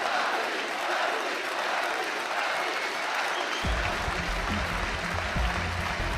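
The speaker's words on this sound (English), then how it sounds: "the crowd is showing their appreciation" A large arena crowd applauds at the 2015 League of Legends Worlds semifinal in Brussels, a dense continuous wash of clapping that swells and grows fuller partway through.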